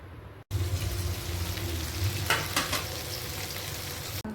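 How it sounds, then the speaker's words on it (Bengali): Eggplant frying in a generous amount of hot oil, before neem leaves go into the same pan, sizzles continuously and loudly after a brief silent moment at the start, with occasional sharper crackles. "বেগুনটাও ভাজতে হবে আর তুলে নিয়ে নিম পাতাটাও ভাজতে হবে"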